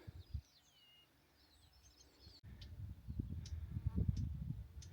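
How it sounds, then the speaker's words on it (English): Blackcap giving sharp, scattered alarm tuts, faint and somewhat distant, in a late-day outdoor setting with other birdsong and low rumbling background noise. "little tutting noise of a blackcap"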